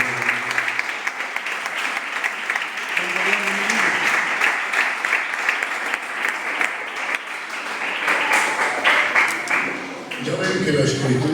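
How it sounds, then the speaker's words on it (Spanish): A church congregation bursts into sustained applause, dense clapping that swells and carries on for several seconds, with voices and cheers mixed in near the end. "Un fuerte aplauso para el Señor."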